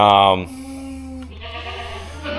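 Goats on a dairy farm, one bleating loudly at the start, followed by quieter barn ambience with a faint second call.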